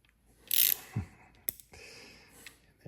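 Wrench work on the camshaft bolts of a Porsche 911 engine during assembly, a few quiet ratcheting clicks and metallic taps spread over a few seconds, close by and with no talk.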